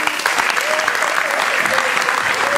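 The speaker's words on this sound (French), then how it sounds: "Je vous demande d'applaudir Fabien Bondron." Steady applause from an audience at a basketball club's season presentation, dense and continuous clapping throughout with a faint murmur underneath.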